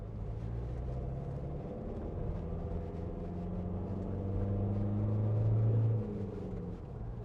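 A 2018 Ford Transit Custom 300 2.0 EcoBlue van driving uphill, a steady low engine drone from inside the cab that swells and strains for a few seconds before easing off, with no talk.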